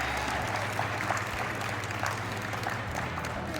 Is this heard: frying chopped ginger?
no